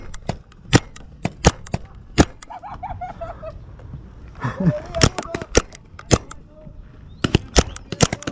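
Paintball markers firing in a shooting field, sharp cracking shots in rapid irregular bursts, some near and loud, with shouted voices in between.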